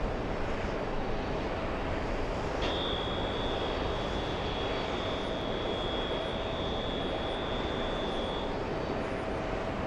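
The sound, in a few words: Air India jet taking off at JFK airport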